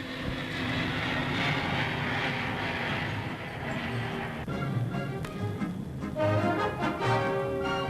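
A propeller-driven airliner of the 1960s taking off for Rome and Benghazi, a loud continuous engine roar that shifts and swells midway, heard alone without talk.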